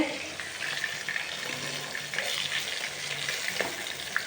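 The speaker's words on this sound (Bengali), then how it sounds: "মাছ ভাজা করছি" Fish sizzles steadily in hot oil in a home kitchen, a continuous close crackle with scattered pops and occasional scraping or stirring.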